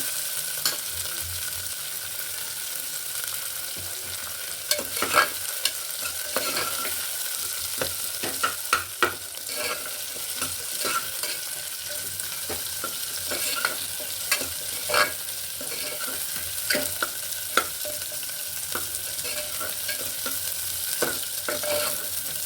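Onions for tomato rice sizzle steadily in a pan while a spoon stirs and scrapes at irregular intervals, close and continuous, with no voices.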